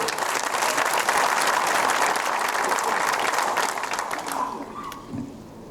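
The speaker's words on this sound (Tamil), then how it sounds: "பத்தாவது கைத்தட்டு" Loud, dense audience applause from a crowd at a Tamil political talk, sustained for about four seconds before thinning into scattered claps and fading out.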